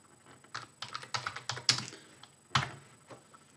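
Comment typed on a computer keyboard, a quick irregular run of close, crisp key clicks with a couple of sharper, heavier keystrokes near the end.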